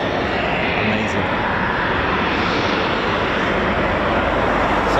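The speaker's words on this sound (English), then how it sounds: "we have 2 F-15J and 2 EF-2000 Eurofighters lined up and awaiting clearance for departure" Two F-15J and two EF-2000 Eurofighter Typhoon jet fighters lined up awaiting departure at an RAF airbase, their engines giving a loud, steady, broad roar that fills the whole stretch without letting up.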